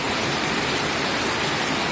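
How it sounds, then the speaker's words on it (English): Heavy monsoon rain pours steadily during a storm with strong winds, a dense, continuous roar of falling water close by with no talking. "And you can hear that rain."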